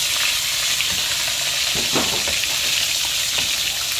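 Fish frying in hot oil, a steady close sizzle with crackling pops and a few stirring scrapes throughout, no voices.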